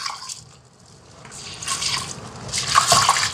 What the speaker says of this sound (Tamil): இப்போ இந்த உளுந்த கழுவி எடுப்பேன்ல, உளுந்தும் வெந்தயமும்